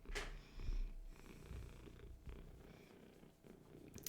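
A cat purrs close to a microphone in a steady low rumble with soft breathy pulses, holding at moderate loudness for a few seconds without talk.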